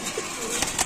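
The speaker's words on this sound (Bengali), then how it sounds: "অনেক কবুতর আছে" Pigeons at a pigeon market, with a soft low coo over a busy hiss of background noise, fairly close and brief.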